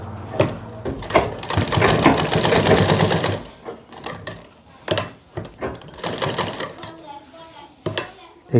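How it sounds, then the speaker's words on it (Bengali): A sewing machine sews the corners of a shirt in short, close bursts of rapid stitching, starting and stopping, while a person talks between the runs. "এই কোণাগুলো এভাবে সেলাই করতে হবে।"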